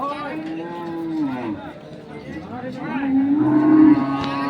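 Dairy cows mooing loudly nearby at a cattle market in Dinajpur, several long low calls one after another, with murmuring voices and crowd bustle in the background.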